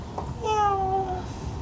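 A cat gives one short, clear meow, close and moderately loud, over a soft background rumble.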